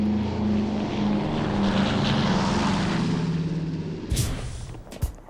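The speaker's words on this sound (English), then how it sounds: "You get to go and jump in this airplane that you love and sounds awesome." Propeller engines of a Lockheed Electra airliner roar loudly and steadily up close, with a deep throbbing drone that tapers toward the end, ending in a couple of sharp knocks.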